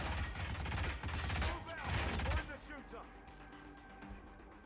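Rapid bursts of gunfire in the Hitman video game, dense volleys for over two seconds and then sparser, quieter shots fading out.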